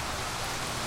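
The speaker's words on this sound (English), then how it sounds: "the rains started to come" Rain falls steadily on a lawn, giving a dense, even hiss of countless drops with no breaks and no voices.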